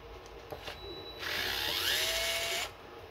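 A DeWalt gyroscopic power screwdriver with clutch unscrewing a screw, a close high whirring buzz that rises in pitch for about a second and a half and then stops.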